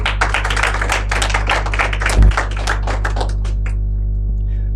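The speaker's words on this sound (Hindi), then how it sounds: "एक बार तालियां हो जाए निशांत के लिए।" An open-mic storytelling audience applauds for the performer Nishant: a dense burst of many hands clapping that holds steady for several seconds, then thins and fades out near the end.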